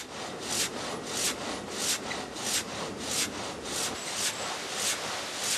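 A hand saw rasps through wood in steady back-and-forth strokes, about two per second, close and fairly loud with no voices.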